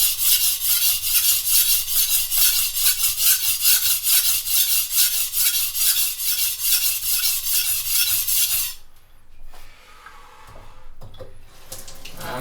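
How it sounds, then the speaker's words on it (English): Steady rhythmic rasping of a chef's knife being ground to a steeper edge angle while repairing a broken tip, loud and close with even back-and-forth strokes for several seconds before stopping, followed by softer scraping. "I'm grinding in a steeper angle than this side"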